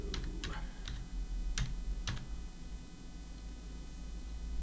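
Typing on a computer keyboard: a few scattered, crisp key clicks in two small clusters, close and fairly quiet over a low background hum.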